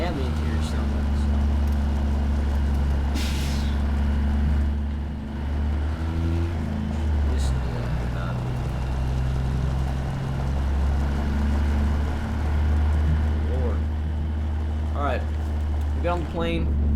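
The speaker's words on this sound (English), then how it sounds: "And the interior sounds like this." A steady, low engine drone heard from inside a truck cab in a video game, rumbling continuously at an even level with faint higher noises over it.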